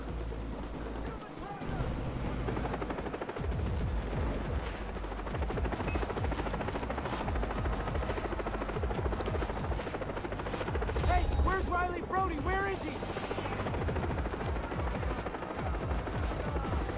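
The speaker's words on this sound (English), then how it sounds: "Helicopter." Helicopter in the video game Far Cry, a continuous rotor roar with wind rushing through it, loud and sustained over a long stretch, with some voice mixed underneath.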